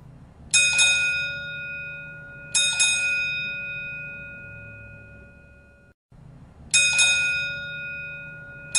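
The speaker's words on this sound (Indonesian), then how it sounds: "Seperti suara lonceng." A bright bell strikes three times, each ring sharp at the start and slowly fading with a long shimmering tail, spaced a few seconds apart.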